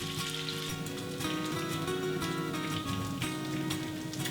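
Bacon fries in a pan with a little olive oil while a spatula stirs it, producing a steady, rain-like crackle and sizzle that holds at an even level throughout.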